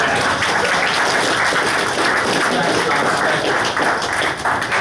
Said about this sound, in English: Mr. Paul Nehlen, one more applause for him.